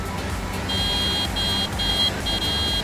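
Electronic honking in a French farming game on a Limousin map, four repeated high beeps in quick succession over a steady background engine hum.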